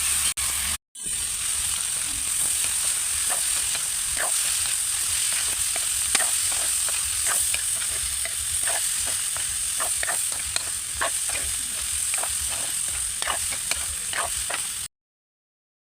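Pancit noodles stir-fried in a hot pan give a steady, close, loud sizzle, with frequent light scraping and tapping from stirring throughout.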